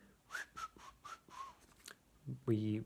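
Several short breathy whistled notes blown into mapacho tobacco in a soft, wavering series, followed by a louder, sustained tonal burst at the end.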